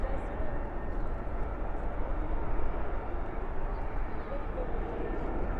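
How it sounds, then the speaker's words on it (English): A Frontier Airbus A320neo departs Dallas/Fort Worth airport at night, bound for Denver, its engines a steady, distant low roar that holds evenly throughout. "Ooh, a Frontier departure now."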